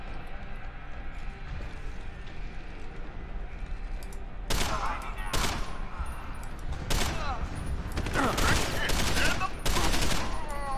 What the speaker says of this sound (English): Alright, I guess I'm just gonna shoot them.